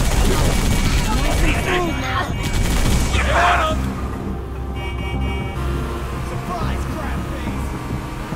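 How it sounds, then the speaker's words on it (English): Gunfire in a Halo 3 battle, scattered shots and bursts mixed with vehicle engine noise and explosions, dense and loud, with voices talking over the combat. "We're under fire."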